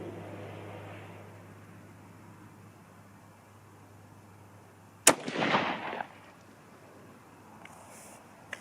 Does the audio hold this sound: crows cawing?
no